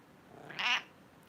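A single short cat meow, faint and close, rising briefly out of quiet room tone with no other sounds.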